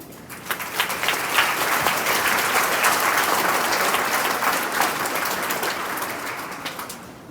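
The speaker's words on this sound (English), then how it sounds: "I would like to thank all the scholarship sponsors beforehand and give them a round of applause." A crowd at a high school graduation ceremony applauds scholarship sponsors, dense sustained clapping that swells quickly and holds steady and fairly loud throughout, with no voices over it.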